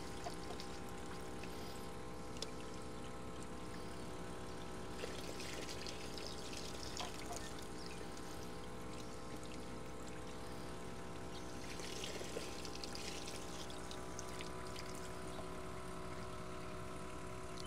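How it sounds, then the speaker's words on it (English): Liquid poured off the top of a filter on a 60-year-old Detroit V12 two-stroke dump truck, a steady trickling wash that runs unbroken for the whole stretch over a constant low mechanical hum. "I'll pour the bit cleaner stuff off the top"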